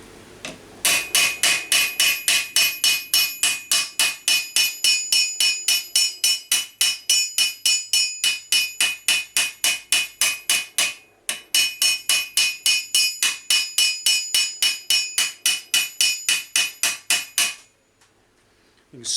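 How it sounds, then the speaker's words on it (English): A hammer taps armour metal on an anvil in a fast, even run of ringing metallic strikes, close and loud, pausing once briefly before carrying on and then stopping. "tap it back down on this side of the anvil."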